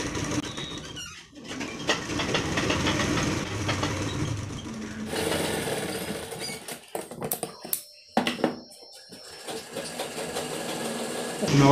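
A sewing machine stitching a baju, its rapid mechanical chatter running in bursts with brief pauses and stops, fairly close, alongside faint background sounds.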